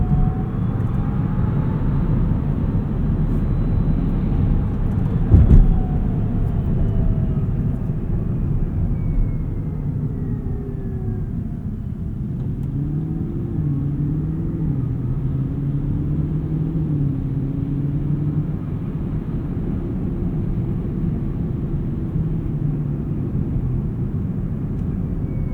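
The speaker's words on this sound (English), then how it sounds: "This is some of the coolest electric motor whine that I've heard in any new EV." Steady electric motor whine from a 2024 Tesla Cybertruck while driving, with gliding tones rising and falling over low road rumble, continuous and close, with no talk.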